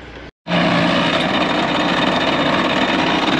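A machine runs a knife sharpening cycle: after a brief silent cut, a loud, steady mechanical grinding hum starts abruptly and holds constant up close.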